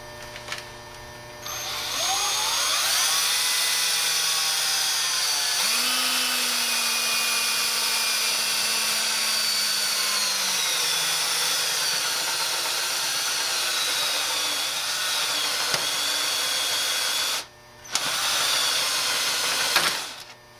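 Power drill boring through a thick phone book, a steady loud whine that holds for about fifteen seconds with the pitch shifting slightly, then cuts out briefly and restarts for a short final burst.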